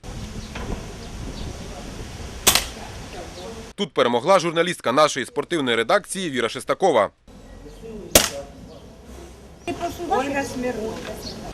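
Small-bore rifle shots ring out at a journalists' shooting competition, with a few sharp isolated cracks spaced seconds apart, while a narrator speaks over the scene.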